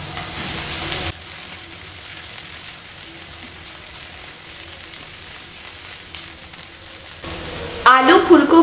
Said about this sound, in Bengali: এখন গরম মশলার গুঁড়োটা খুব ভালো করে মিশিয়ে নিয়ে আবারও 1 মিনিটের মতো নাড়াচাড়া করে